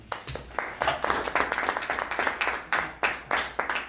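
Recorded clap track of an audience applauding at the end of a Node.js meetup presentation, a dense steady patter of many hands clapping at close range with no talking.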